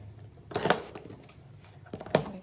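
Scissors cut away excess material from a stencil notebook cover, two sharp snipping strokes about a second and a half apart, close and fairly quiet with no talk.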